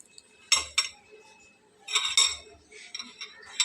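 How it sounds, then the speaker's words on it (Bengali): A knife slicing through folded garlic paratha dough on a board, giving a few sharp, close knocks and scrapes in two clusters with a softer third burst, and no voices. "ছুরি দিয়ে আমি একদম মাঝ বরাবর কেটে নেব।"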